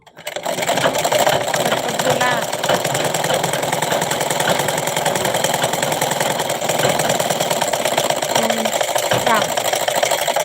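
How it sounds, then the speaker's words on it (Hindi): A sewing machine stitches cloth with a loud, continuous mechanical whirr that runs the whole time, while voices talk over it. "कपड़े सिलाई का काम कर रही हूँ कपड़ा सिलती हूँ"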